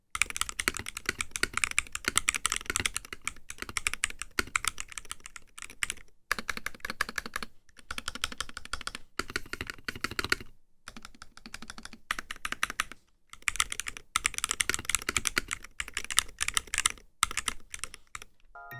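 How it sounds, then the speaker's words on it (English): Fast, continuous clacking of a Made68 Pro mechanical keyboard with super light switches, typed in rapid bursts with a few short pauses, close and crisp. "let's do a quick typing test with it"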